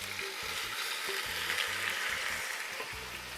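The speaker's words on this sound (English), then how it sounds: "All right, so now we're gonna go ahead and add our meat." Pork ribs frying in a hot pan for braised ribs, a steady crackling sizzle with faint clinks of utensils, moderately quiet and without talk.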